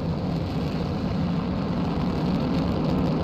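Steady, loud low roar of a rocket engine in Kerbal Space Program (Real Solar System), a continuous dense rumble holding constant for a few seconds with no pauses.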